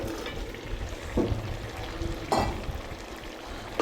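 Curry leaves and tomatoes hit hot oil for a tomato chicken curry, giving a steady close sizzle and frying crackle with a few sharper bursts as pieces are stirred in.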